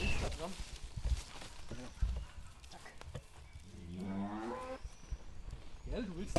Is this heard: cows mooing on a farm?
yes